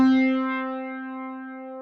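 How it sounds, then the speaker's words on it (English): A single sustained guitar chord from a Roland MT-300 sound module rings out with a shimmering, slightly wavering chorus effect, fading slowly over about two seconds. "It had some chorus on it."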